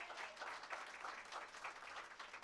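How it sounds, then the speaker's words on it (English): An outdoor crowd at a park grand opening gives a round of applause, dense continuous clapping heard from a moderate distance and fairly soft, with no talking over it. "Please give them a round of applause."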